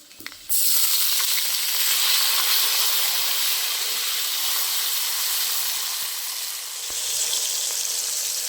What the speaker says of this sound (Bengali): নারকেলটা একটু ভালো করে লাল লাল করে ভেজে নেবো